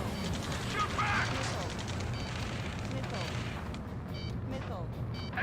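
Rapid gunfire from air combat in the Ace Combat 7 video game crackles in dense bursts amid a steady roar of engines and battle noise, with radio voices talking over it.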